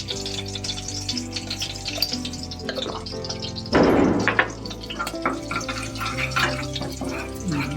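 Curry leaves and asafoetida hitting hot oil for a tempering while cooking suran (elephant foot yam) sabji, a sudden sizzling burst that settles into a softer crackle under someone talking.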